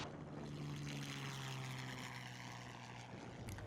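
A single propeller engine drones loudly and steadily, a close, continuous roar of a Piper Saratoga powering up for takeoff.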